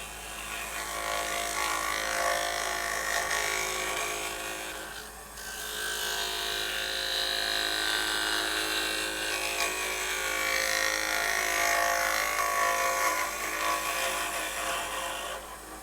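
Orbital sander fitted with a soft pad and scalloped sandpaper running steadily on wood, a continuous close whirring buzz that dips briefly partway through, with no talking.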